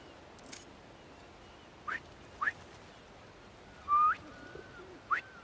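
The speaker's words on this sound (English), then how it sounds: "Try a whistle." A few short rising whistle-like bird calls in the Marvel's Spider-Man 2 video game, spaced apart over faint background hiss, including one longer sustained note midway.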